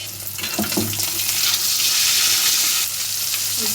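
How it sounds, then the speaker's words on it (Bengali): Two fish fry in hot oil in a pan, giving a loud, steady sizzle and crackle close by with faint stirring, no voices. "মাছ দুটো একেবারে লাল লাল করে ভেজে নিয়েছি"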